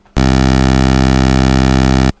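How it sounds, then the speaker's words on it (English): A single steady buzzy 8-bit pulse bass tone from a sequencer, harsh and chiptune-like, sounds loudly for about two seconds and then cuts off abruptly. "And it sounds like this, your bass sequencer sound."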